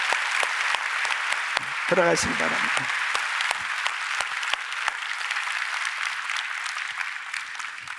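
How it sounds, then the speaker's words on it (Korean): A church congregation at a Korean Sunday worship service claps steadily and fairly close, the applause running throughout while a voice briefly speaks over it early on. "우리 귀한 동역자들을 위해서 다시 한번 박수를."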